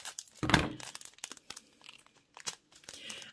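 Plastic bag from an advent calendar handled up close, giving a loud crinkling burst near the start, then scattered softer rustles and crunches with brief pauses between them.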